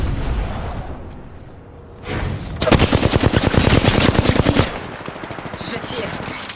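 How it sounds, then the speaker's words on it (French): Video game gunfire: a rapid, loud burst of automatic shots rattles for about two seconds, set against steady background game noise, with a reload sound likely before it. "Je tire. Je recharge."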